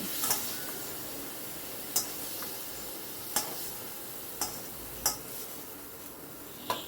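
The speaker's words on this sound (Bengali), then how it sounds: "আমি এবার ঝিঙেটাকে তুলে রাখছি অন্য একটা পাত্রের ভেতর।" Fried ridge gourd is lifted from a hot pan into another bowl, with a soft steady sizzle under a series of sharp, evenly spaced spatula scrapes and taps against the pan.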